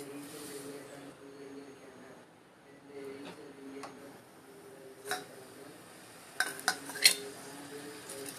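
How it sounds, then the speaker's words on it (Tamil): A pan is set on the stove for oil, with quiet clinks and a couple of sharper metallic clunks near the end over a faint background hum. "அடுப்பில் ஒரு சட்டி வச்சுட்டு தேவையான அளவு எண்ணெய் ஊற்றணும்."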